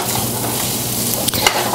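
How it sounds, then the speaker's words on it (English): Tri-color bell peppers sauté over medium heat in a pan, a steady close sizzle with a couple of brief stirring scrapes near the end. "So while these are sauteing and getting nice and limp"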